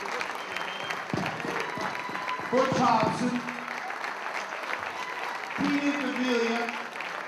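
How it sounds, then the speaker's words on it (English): A banquet crowd at a baseball hot stove dinner claps and cheers in a sustained round, while an announcer speaks over the applause. "How about another round of applause for Rich Gedman"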